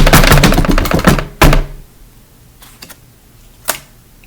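A deck of playing cards being shuffled by hand at a podcast desk: a quick, dense burst of papery riffling clicks for about a second and a half, then a few soft scattered taps and near silence, with no talking.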